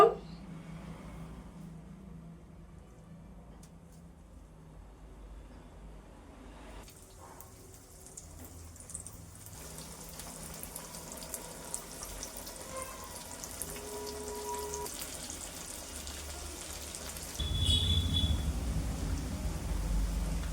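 Potato and chickpea-lentil pakoras frying in hot oil on a gas stove, a continuous close sizzle that thickens and grows louder toward the end, with faint kitchen clatter.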